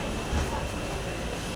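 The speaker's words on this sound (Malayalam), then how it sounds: "ഇങ്ങനെ നമ്മൾ അടുത്ത ട്രെയിനിൽ കയറി." A passenger train on the way to Pondicherry, heard from inside as a steady, loud broadband rumble that runs continuously and cuts off abruptly at the end.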